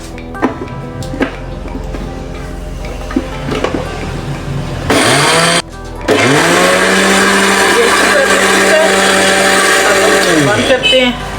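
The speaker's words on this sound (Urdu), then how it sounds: "اب ہم اس کو پیس لیتے ہیں۔" An electric spice grinder pulverises whole coriander seeds, salt and whole garam masala, its loud steady whirring motor running for several seconds after a brief start, with a voice talking beforehand.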